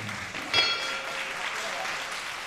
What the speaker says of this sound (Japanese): 後楽園ホールからは拍手で送られました。